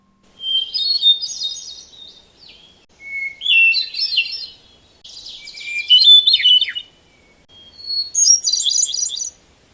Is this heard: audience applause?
no